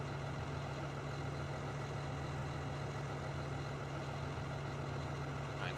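A tractor engine idles in Farming Simulator 2013, a steady low rumbling drone that holds evenly throughout with no variation.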